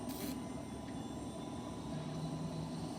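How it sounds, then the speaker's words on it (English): A passenger airplane taking off near a plane-spotting area, giving a steady, loud, broad engine roar with a faint tonal whine that holds throughout, with no talk. "Plane takeoff."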